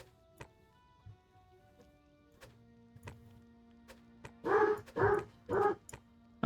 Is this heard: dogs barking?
yes